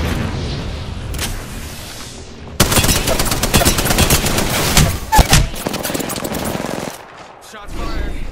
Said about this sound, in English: Shots fired. And they're hitting us.